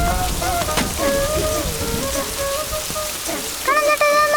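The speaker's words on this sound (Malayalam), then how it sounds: "അതേ നല്ല മഴ വരുന്നുണ്ടാ" Steady rain pattering on a surface throughout a Malayalam movie scene set among 90s kids, with music-like tonal lines running over it and no clear talk.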